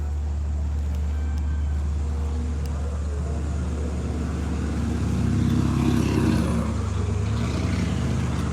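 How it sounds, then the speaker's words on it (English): A car accelerates with a steady low engine drone that swells and rises in pitch toward the middle, a continuous close rumble with no talk over it. "it was just the car accelerating"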